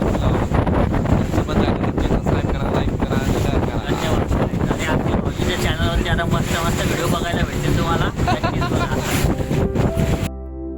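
A boat cruising down a calm river toward the sea at Malvan, with steady loud engine and wind rumble filling the whole stretch, then cutting off abruptly at the end.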